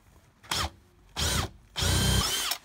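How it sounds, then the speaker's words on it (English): Cordless drill boring through a wooden board over a support board, three loud whining bursts in a row, the last one longest, close by with no talk. "This is gonna drill right through the board underneath it"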